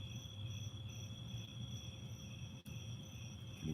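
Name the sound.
crickets chirping at night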